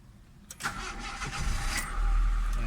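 A Honda City car engine is started with the key: a brief cranking whir, then the motor catches and settles into a steady, loud idle close by, with no voices.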